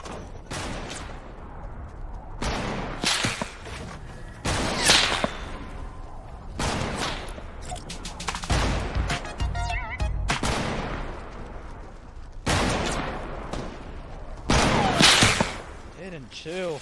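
Gunfire in Fortnite, several loud separate bursts and sharp cracks spread through the clip with quieter gaps between them, close and harsh, with someone talking at times.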